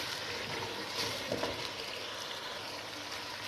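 Tomato-based condiments for sautéed spaghetti cook in a covered pan with a little added water, giving a steady soft sizzle and bubbling hiss that runs evenly throughout with no voices.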